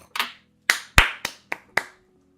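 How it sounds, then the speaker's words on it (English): A single person claps their own hands six times in an irregular, sparse pattern, each clap sharp, close and dry, with silence between and no talk. "I'm like clapping for myself."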